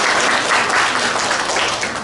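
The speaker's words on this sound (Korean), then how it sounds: "큰 박수 부탁드립니다" Dense, sustained applause from a forum audience fills the room, loud and even throughout with no pauses.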